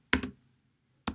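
Brief clicks of a computer keyboard while a terminal command is typed, two quick close taps followed by a pause and a third keystroke, near and fairly quiet.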